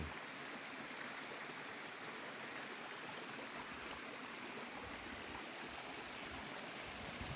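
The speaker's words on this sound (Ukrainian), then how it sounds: "Оце приток річки Заросляк." Mountain stream rushing through a canyon on a red-marked descent route from Hoverla, a tributary of the Zarosliak river; steady, close, broadband water roar continues without pause and no voices.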